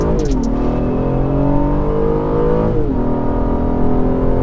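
A 2018 Acura TLX A-Spec launches from a stop at about 2,000 RPM, its engine droning loudly and steadily with a brief dip in pitch partway through as it accelerates, heard from inside the car.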